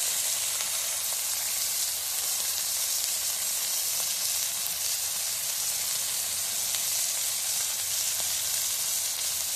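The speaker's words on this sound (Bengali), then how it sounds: "এটাকে সুন্দর করে ভাজতে হবে, মানে মাখিয়ে নিতে হবে" Turmeric and five whole chillies frying in hot oil for a mustard greens dish, a steady close sizzle and hiss that holds evenly throughout with no talking.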